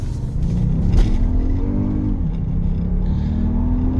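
A Toyota Grand Highlander Hybrid Platinum accelerating hard to pull out into traffic, engine tone climbing and shifting over a steady road rumble, close and alone without speech.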